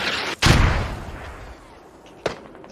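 Mortar rounds in a competitive video game match slam into and destroy a radio: a loud sharp blast with a lingering rumbling tail, then a second smaller crack moments later, with faint commentary beneath.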